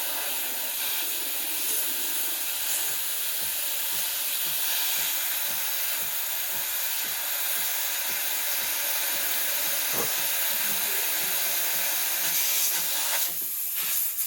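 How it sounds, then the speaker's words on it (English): The steam wand of a Breville Barista Express BES870 espresso machine hisses loudly and steadily at full pressure, a continuous broad roar that swells slightly near the end. "I'm just going to show you the steam wand working"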